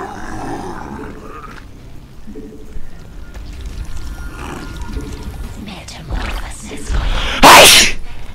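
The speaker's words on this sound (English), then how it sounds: "Wow, I haven't sneezed in a game in a while." A single sharp sneeze bursts out near the end during a StarCraft ZvZ match on Antiga Shipyard, loud and close, following low game rumble and quiet talk.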